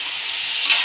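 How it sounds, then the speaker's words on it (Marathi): Beans cooked with a ground coconut masala are stirred in a hot pan, giving a steady broadband sizzle with soft scraping that rises briefly near the end. "आणि चांगलं परतून घेऊया."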